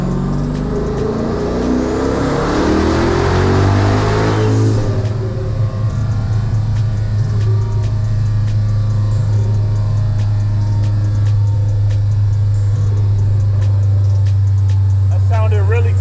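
A 1000-horsepower Dodge Hellcat revving hard on an 18-pound boost run, a loud sustained engine roar climbing in pitch then settling into a heavy steady drone, with faint voices in the background.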